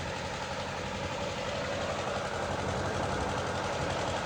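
A generator engine that has been running for hours makes a constant, loud mechanical drone with a rough, knocking texture. It stays steady throughout and no voices are heard.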